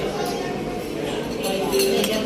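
Metal utensils clink and scrape in a pan as chop suey vegetables are stirred and mixed, close and busy, with a voice and background chatter underneath.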